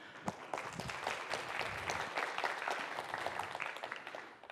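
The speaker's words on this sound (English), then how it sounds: "a huge round of applause." A large audience at the DevDays Asia 2025 keynote in Taiwan claps in dense, sustained applause that stays steady and fairly loud throughout, with no speech over it.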